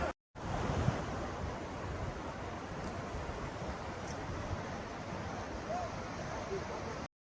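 Ocean surf on Bhate beach rolls in as a steady, broad wash of breaking waves with wind noise, continuous and fairly quiet, with no voices.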